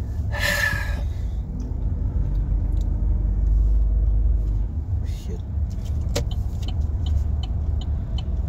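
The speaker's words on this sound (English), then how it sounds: "There's a big car, a big lorry truck." A big lorry truck passes on a highway, a heavy low rumble of engine and road noise that swells in the middle, with a brief voice at the start.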